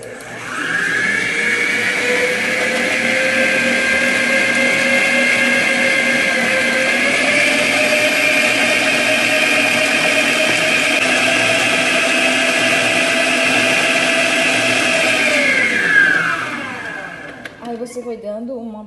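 An electric mixer beats cake batter in a steady, loud whir that holds for about fifteen seconds, its pitch shifting slightly partway through before it winds down and stops.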